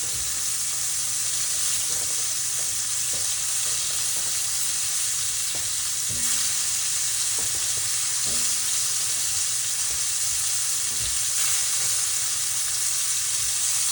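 Beef sears in a hot pan with a steady, loud broadband sizzle throughout, interrupted by a few soft clatters and scrapes as the meat is flipped.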